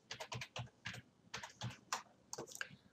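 Keys clatter on a computer keyboard in quick, close bursts of clicks with short pauses between words, loud and alone without talking.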